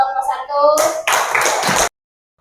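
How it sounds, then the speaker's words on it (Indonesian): Audience clapping for a student group at an Islamic university teacher-training presentation, a short loud burst of applause that follows a brief bit of talk and stops abruptly. "Beri aplaus untuk kelompok"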